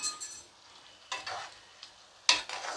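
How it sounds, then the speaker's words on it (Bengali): A spoon stirs a drumstick and sesame curry in a pan, a few quick scraping strokes separated by quiet pauses, with a faint sizzle in between. "ভালো করে নেড়ে দিলাম।"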